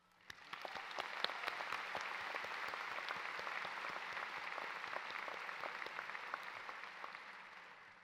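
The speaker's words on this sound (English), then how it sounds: "So let's give ourselves a big round of applause." Large audience applauding at a university commencement ceremony: sustained, dense clapping that swells quickly and holds steady for the whole stretch, with no voices on top.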